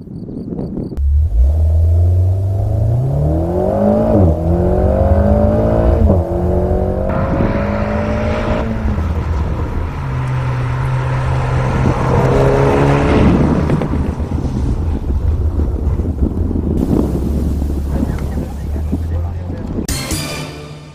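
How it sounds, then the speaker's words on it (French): An Alpine car does a braking test at 110 km/h in a curve on dry and wet track, fitted with Bridgestone Potenza Sport tyres on a circuit. A loud, close engine note rises and falls with revving, over a steady rumble that lasts throughout. "là c'est parti au volant d'Alpine à 110 pour un test de freinage en appui dans une courbe sec et mouillée"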